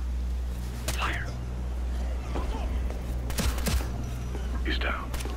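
Suppressed gunfire crackles in the Ghost Recon Future Soldier video game, a few short bursts and sharp shots scattered across the clip over a low steady hum, with voices heard between them.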